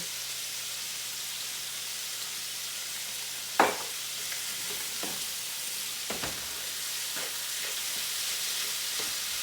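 Steady, quiet sizzling of chicken frying in a pan, with a few sharp clinks and scrapes of a utensil against the pan.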